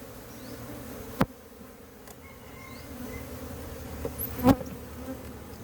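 Wild cavity-nesting honeybees buzz in a steady, moderately faint drone, with a couple of sharp knocks standing out above the hum.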